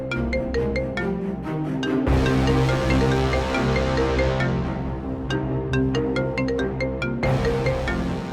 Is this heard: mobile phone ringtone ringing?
yes